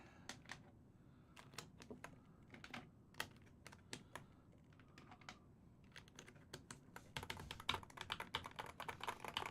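Keys clack on a KBDfans x MM Hall effect keyboard fitted with Gateron Jade switches, starting as sparse, well-spaced presses and building into a fast, dense burst of close typing near the end.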